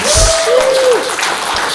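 A convention panel audience at a retro gaming expo claps continuously in a dense crowd wash, with a brief tonal sound near the start and no clear talk.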